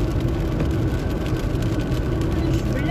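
Car cruising on the A7 motorway near Heerenveen toward Drachten, a steady whirring road and engine hum heard from inside the vehicle.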